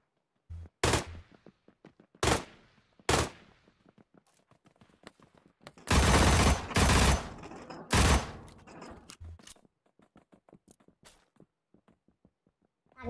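Gunfire from a weapon in the battle-royale video game PUBG: loud single shots and short bursts, then a sustained rapid volley, with quieter clicks and footsteps in between.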